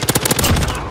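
An M13 assault rifle in Modern Warfare fires a rapid burst, its loud, close shots rattling in quick succession for under a second.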